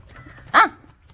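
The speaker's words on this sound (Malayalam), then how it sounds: "ഇവരാണ് ഇവിടുത്തെ രണ്ട് പട്ടികൾ" A single sharp dog bark, close and loud, over a faint background.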